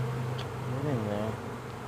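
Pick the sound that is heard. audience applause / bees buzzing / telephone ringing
bees buzzing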